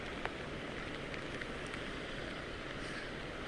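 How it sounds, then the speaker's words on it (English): Heavy rain falls during Hurricane Harvey, a dense, constant hiss with occasional faint taps and gusty undertone, steady and close with no voices. "Rob, you don't think that the city and the surrounding area is going to get a break from this rain anytime soon"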